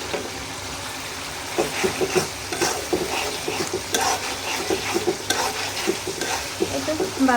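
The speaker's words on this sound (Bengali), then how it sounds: "করে মশলাটা কষাই" Spices sautéing in a hot pan give a continuous sizzle, with a spoon scraping and stirring in uneven bursts close by, small clinks of metal now and then.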